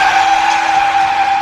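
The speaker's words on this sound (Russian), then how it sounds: "После удара одну из машин развернуло на 360 градусов и отбросило на бордюр." Loud, sustained tire screech from a car skidding in a collision at a city intersection, one involving a VAZ 2109, a continuous high squeal lasting the whole moment without any voices.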